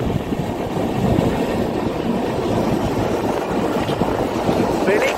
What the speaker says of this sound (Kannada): okay train board ಹಾಕ್ಬಿಟ್ರಿ